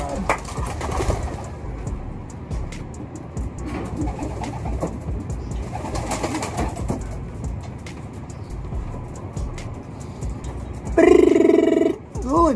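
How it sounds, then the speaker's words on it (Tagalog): Racing pigeons coo and flutter around a backyard loft while a car passes in the distance; near the end a louder, sustained burst of sound rises over the steady outdoor background. "parondahin muna natin itong mga alaga natin postilay para maunat ang kanilang mga"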